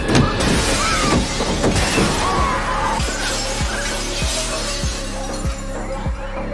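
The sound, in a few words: car crashes in a movie scene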